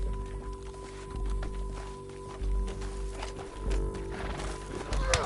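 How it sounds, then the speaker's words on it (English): Hooves clop rapidly in a galloping rhythm in Red Dead Redemption 2, close and steady, with a horse snorting briefly, no talking. "Back on your horse, let's get after them."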